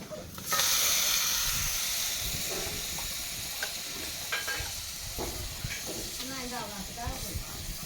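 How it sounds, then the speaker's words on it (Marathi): Hot oil tempering with spices poured over mutton vajdi (tripe) bursts into a loud hiss that gradually fades into a softer sizzle, with a person talking near the end. "मसाला आपण टाकलेला आहे आता आपण फोडणी देऊ"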